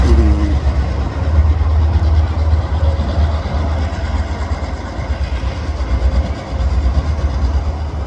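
Freight train cars rolling steadily past on the northbound side near a bridge, a continuous loud low rumble with faint clickety-clack from the wheels, close by, with no voices.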